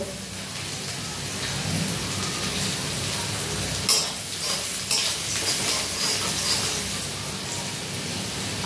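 Garlic stirred and frying in a pan, a steady close sizzle with scraping stir strokes running throughout, a few sharper clacks near the middle.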